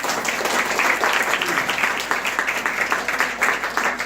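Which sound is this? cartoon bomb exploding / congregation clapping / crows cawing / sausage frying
congregation clapping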